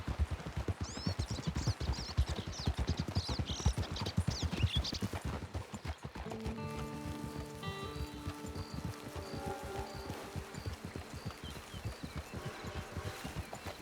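In Red Dead Redemption 2, horse hooves clip-clop in a quick, even rhythm on the ground, clear and close at first. Soft game music rises beneath the hoofbeats partway through.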